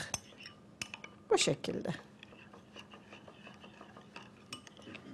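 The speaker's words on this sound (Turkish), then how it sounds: "Bir kaşık yoğurdu güzel bir şekilde içine ilave ederiz. Bunu da güzel karıştırırız." A spoon stirs a spoonful of yogurt into a little milk in a home kitchen, with scattered soft clinks and scraping taps against the bowl, a brief louder flurry near the middle, while someone talks close by.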